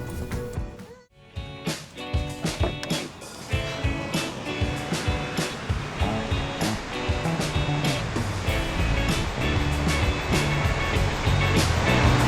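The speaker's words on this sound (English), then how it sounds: "Well, there are definitely some waves in the water." Ocean surf on the Baja coast rolls in as a steady loud wash, with repeated breaking bursts and rushing foam throughout and no one talking.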